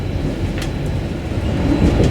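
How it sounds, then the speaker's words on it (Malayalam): A train rolls through hilly central Slovenia with a steady, loud rumble of wheels and carriages, close by and continuous without pause. "കുന്നുകളും താഴ്വരകളുമുള്ള ഭാഗങ്ങളിലൂടെയാണ് ട്രെയിൻ നീങ്ങുന്നത്"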